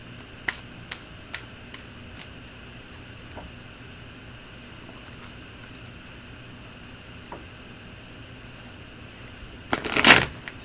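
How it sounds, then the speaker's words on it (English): Tarot cards being shuffled, a few light sharp card snaps early on over quiet room hum, then a short dense burst of riffling shuffle near the end, close and fairly soft. "Sorry, I shuffled a bit there."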